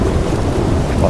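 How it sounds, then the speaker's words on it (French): Thunder from a storm in the video game Red Dead Redemption 2, a loud, continuous low rumble close and heavy, with a rain-like hiss layered over it. "Oh, l'orage qui gronde."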